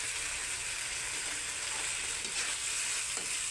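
Crispy sisig fries in a pan, a dense continuous crackling sizzle held at an even level from start to finish, close and with no voices.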